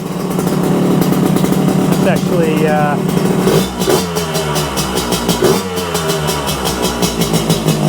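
Yamaha RX125 motorcycle engine running loud and steady at idle, with a couple of brief blips in rev partway through and speech-like overlap mixed in.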